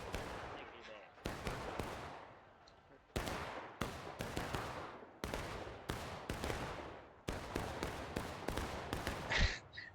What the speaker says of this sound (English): Oh, they're just shooting again.